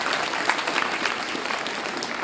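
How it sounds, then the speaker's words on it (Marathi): A school crowd applauding loudly at a sports-week event to welcome a child dressed as Milkha Singh, with dense, steady clapping from many hands that fills the whole stretch without a pause. "एकदा जोरदार टाळ्या वाजवून त्या मिल्खा सिंगचं स्वागत झालं"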